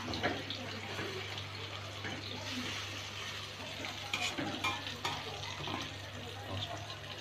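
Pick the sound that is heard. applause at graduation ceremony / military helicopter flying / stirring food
stirring food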